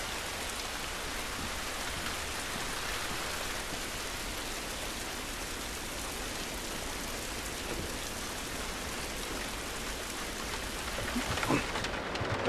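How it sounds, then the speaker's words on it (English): Steady broadband rain falls throughout in The Last of Us Part I remastered, an even close hiss of downpour with no talk, a faint brief knock near the end. "It's raining"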